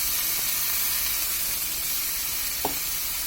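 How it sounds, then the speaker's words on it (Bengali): Flat beans and radish frying with spiced dried fish for a mola shutki dish, a loud, steady sizzle close by with one brief clink of stirring. "এখন আমরা এর মধ্যে সিমগুলো দিয়ে দিচ্ছি। সিম মূলা দিয়ে দিলাম।"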